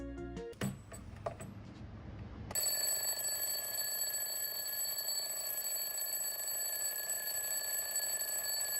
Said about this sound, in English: Why didn't I get a digital alarm clock?